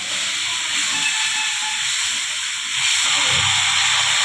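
Water poured onto fried spice paste in a pan while cooking singhi fish, giving a loud, steady hiss of steam that carries on throughout and swells a little near the end.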